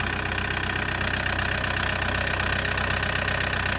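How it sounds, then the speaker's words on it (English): A 2003 Toyota Corolla 2.0-litre D-4D diesel idling on a cold start, a steady close mechanical clatter carrying a faint hiss, unbroken with no voices. "You can hear a faint hissing sound."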